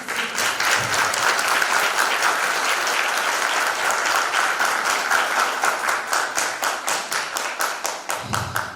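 Sustained audience applause in a hall honoring an amputee physiotherapist in Gaziantep, loud and dense throughout, thinning toward the end into more distinct individual claps.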